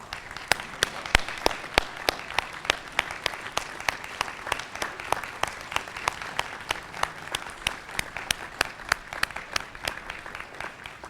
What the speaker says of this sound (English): a special round of applause